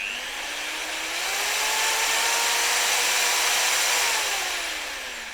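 A Vitals cordless drill-driver whirs alone as its motor pitch climbs smoothly, holds at a high speed and then winds down, close and steady throughout.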